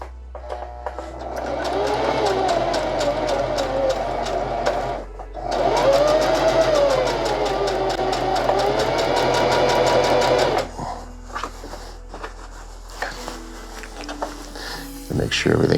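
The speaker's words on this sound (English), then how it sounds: "Now we'll just sew it all the way down." A sewing machine stitches grippy hammock fabric in a close, loud, rapid motor buzz, pausing briefly around the middle and stopping near the end. A voice talks over parts of it.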